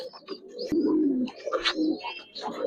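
A pigeon coos close by in low, throaty, rolling bursts on a pigeon farm, with a few faint chirps in the background.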